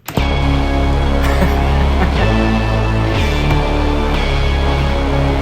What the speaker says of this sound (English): What was this with? This was with the Volca keys.